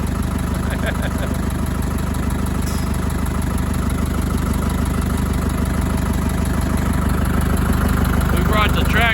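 Tractor engine idling near a barn on a farm while getting ready to hook up a wagon, a steady, loud low rumble running unbroken throughout with faint voices underneath.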